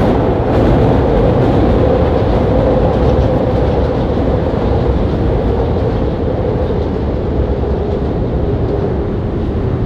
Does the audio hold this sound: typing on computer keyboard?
no